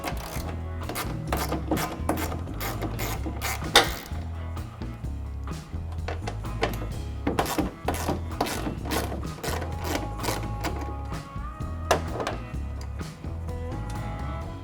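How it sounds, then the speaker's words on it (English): A small ratchet with a 5/16 socket backs out taillight screws on a 2018-2020 Ford F150, giving rapid repeated clicking bursts close up, steady through the whole stretch with no talking. "you're going to want to grab a small ratchet and a 5/16 socket to back them out"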